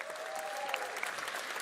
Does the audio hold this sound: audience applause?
yes